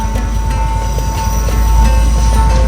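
A train rumbles past close by in Sri Lanka, a loud steady roar of wheels and engine with faint rhythmic clatter and a humming tone.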